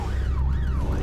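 An ambulance siren wails in a steady rising-and-falling sweep, loud and close over a low rumbling engine and road noise, on the way to an injured rider after a biking-track accident in South Yorkshire woods.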